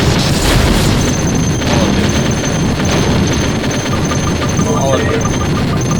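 Bomb explosions in a shooting video game, a dense continuous barrage of booms and blasts filling the whole stretch, loud and close, with a voice talking over it.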